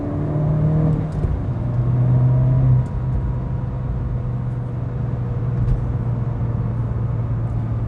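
A 2011 Mini Cooper JCW accelerating, heard from inside the cabin: engine tone climbs through a gear, then drops at the shift and settles into a steady drone with road rumble.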